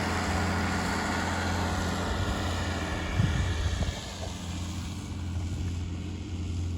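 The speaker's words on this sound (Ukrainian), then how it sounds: "трактор йде гарно, передача третя" MTZ 1221 tractor engine ploughing garden plots in third gear, a steady low drone with a brief rougher surge midway, heard alone at moderate distance.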